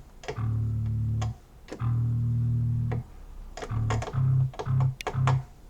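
A bass guitar plays through an amp modeler on a Tech21 VT Deluxe profile into an Ampeg 8x10 cabinet impulse, slightly distorted: two long sustained notes, then a quick run of four short punchy notes with clicky attacks.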